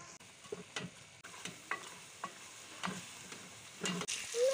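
Tomatoes and spices fry in a pan as a spoon stirs them, soft sizzling with repeated scraping strokes, close and quiet, no talking.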